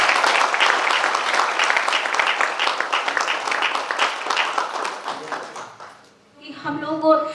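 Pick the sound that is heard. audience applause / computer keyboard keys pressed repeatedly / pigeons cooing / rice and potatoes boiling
audience applause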